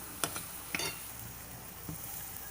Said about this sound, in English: You have to keep on stirring